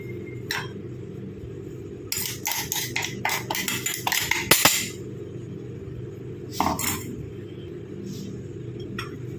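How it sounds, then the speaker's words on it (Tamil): Ingredients tumble into a bowl in a quick burst of clinks and rattles, followed later by a shorter pour. Each pour is fairly close over a low, steady background hum. "அதுக்கு தான் நான் உங்களுக்கு பவுலில் எல்லாத்தையும் கொட்டி காட்டுறேன்."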